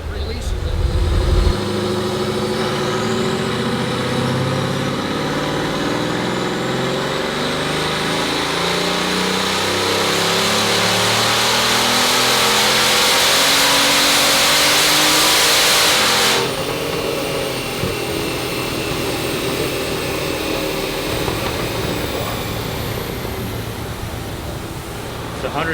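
A Bugatti Veyron engine revs hard, burbling and building boost: a loud, sustained roar with a rising whine that swells and then drops back to a steadier drone.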